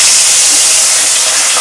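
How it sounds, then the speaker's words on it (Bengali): Gurjali (salmon) fish fries in hot mustard oil in a kadai, giving a loud, intense, unbroken hiss close by with no voices. "এবারে আমি মাছগুলোকে ভেজে নেব।"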